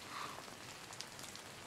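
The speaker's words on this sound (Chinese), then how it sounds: "既然下着小雨" A light drizzle patters softly and evenly on surfaces, faint and continuous, with no voices over it.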